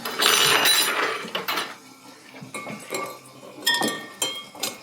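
A spoon clinks and taps against a glass of wine at a vineyard tasting, with several light, irregular chimes and scrapes close by and no talking.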